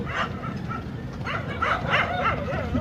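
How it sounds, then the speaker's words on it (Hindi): Several dogs barking and yipping in an open field near a tractor demonstration, repeated overlapping barks at moderate distance, loud and fairly continuous with no talk. "गाइस कुत्ते भौंक रहे हैं"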